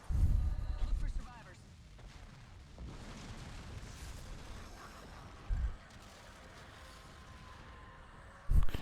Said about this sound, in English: do you think there's survivors with all those explosions going off right now?